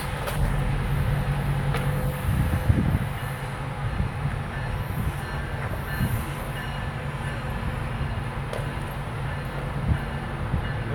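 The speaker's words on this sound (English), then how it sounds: "Here comes the train in." A passenger train rumbles steadily nearby as it arrives at a station, with heavy wheel noise on the rails and a brief metallic squeal as it pulls in.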